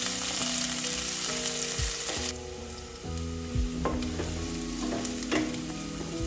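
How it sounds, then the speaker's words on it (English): Onions sauté in a pot for a one-pot rice and beans dish, giving a constant loud sizzle with occasional scraping stirs, and steady tonal hums underneath, close and continuous with no voices. "Then I'm going to saute this for about a minute."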